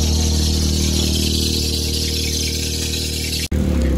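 Engine of a Suzuki FX small car, fitted with a V6, running steadily with a loud, even idle hum close by, broken by one abrupt momentary drop near the end before the engine resumes.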